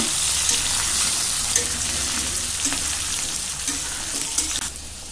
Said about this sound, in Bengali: এইটা আমি একটু ভালো করে ভেজে নেব।